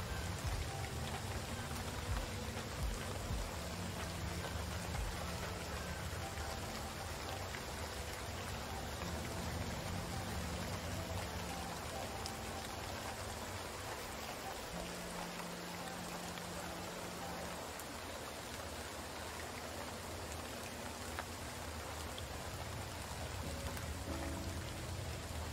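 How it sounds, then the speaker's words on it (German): Video game rain, falling indoors as a glitch: steady rain patters down without pause, an even hiss of drops on a surface, with faint low tones humming underneath. "Aber hier regnet es, hier drinnen regnet es auch noch"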